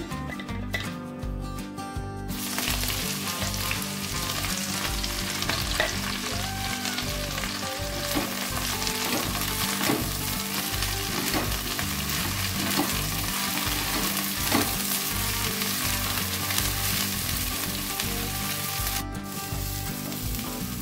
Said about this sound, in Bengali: পাট শাক ভাজা হয়ে গেছে, একদম নরম হয়ে গেছে।